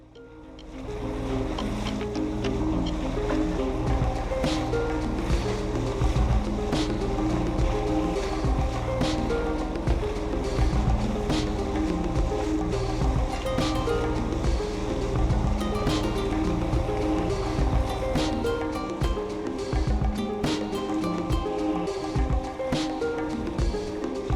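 A Contessa 28 sailing boat heads out of Poole Harbour through choppy tidal waves, with a steady, loud wash of water and hull noise that runs continuously throughout without any talking.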